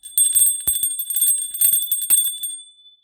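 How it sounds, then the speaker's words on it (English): Small handheld bell rung repeatedly in a quiet room during a spiritual reading, bright sustained ringing with several quick shaken strikes that fade out near the end. "The bell definitely helps to draw in the channel, and it helps to clear the energy in between each reading."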